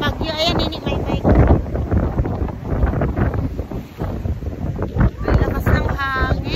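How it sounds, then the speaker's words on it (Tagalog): Strong wind gusting across an island, buffeting the microphone in loud rumbling bursts that rise and fall, with people talking and exclaiming over the blustery roar. "Ang lakas ng hangin."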